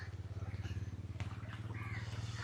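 A motorbike ridden along a village road, its engine a steady low putter with a pulsing rhythm, close and continuous throughout.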